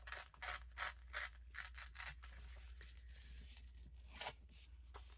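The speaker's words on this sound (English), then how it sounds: "Let's just start tearing." Paper being torn by hand for an envelope collage, a quick run of short ripping bursts followed by a pause and one more tear, close and fairly quiet.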